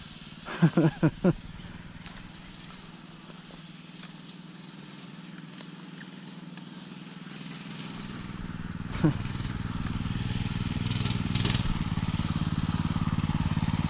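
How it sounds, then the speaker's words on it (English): A small mini bike engine hums at first, then grows steadily louder as the bike approaches and rides past, with a few sharp clicks near the start. "here comes my dad on the mini bike"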